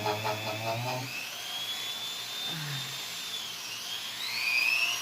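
A Tacklife multi-functional rotary tool runs at full speed, giving a steady high-pitched whine that wavers and climbs near the end, with a brief voice at the start.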